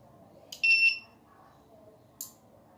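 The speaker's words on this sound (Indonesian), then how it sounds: "Ia buzzer menyala berarti menandakan" A buzzer on an IoT rice-field monitoring system gives one short, bright electronic beep, close and clear, followed by a brief click against quiet background hum.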